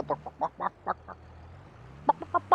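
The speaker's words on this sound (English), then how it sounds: "And they make chicken noises." Farmyard chickens in the Farming Simulator 22 video game give a run of short, close clucks in quick bursts, then a brief pause before another cluster of clucks near the end.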